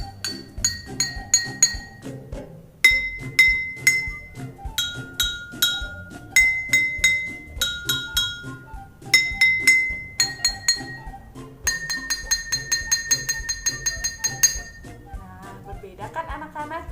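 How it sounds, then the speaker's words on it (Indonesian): Four water-filled drinking glasses are struck in turn, giving bright ringing clinks at different pitches in short repeated runs, close and clear, with a quick tremolo flurry near the end and some talking underneath. "mengetahui perbedaan bunyi dari 4 gelas ini yang telah diisi air"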